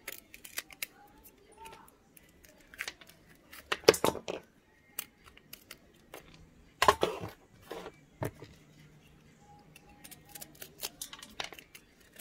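A blade cuts away the outer layer of cashew bark root in sharp, irregular cracks and scrapes, a few louder snaps among quieter crunches, with a faint voice in the background.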